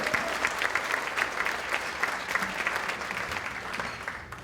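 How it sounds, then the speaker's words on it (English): Audience applause at a recovery breakfast, a moderate crowd clapping steadily with distinct individual claps, fairly soft and continuous throughout. "Please, another round of applause for Dr. Joseph Schran"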